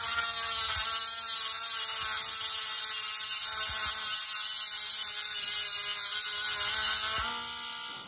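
A grinder runs steadily and loudly against tape-wrapped electric motor magnets, a high continuous whine with faint scraping pulses, dropping off sharply near the end.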